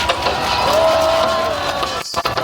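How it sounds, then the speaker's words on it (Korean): A crowd at an anti-impeachment rally near the Hannam-dong presidential residence cheers and applauds in a loud, dense roar. A tone is held briefly partway through, and the noise cuts out abruptly just before the end. "박수 부탁드립니다."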